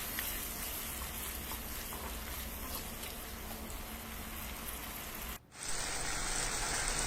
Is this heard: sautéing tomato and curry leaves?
yes